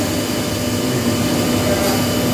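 An air compressor at the Atma Husada regional psychiatric hospital runs steadily with a constant mechanical whir and a faint tonal hum, loud and alone with no breaks.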